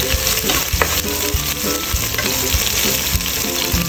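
Shallots hit hot oil with browned garlic in a pan for a chicken lemongrass soup, giving a loud, close, continuous sizzle and crackle with occasional stirring scrapes.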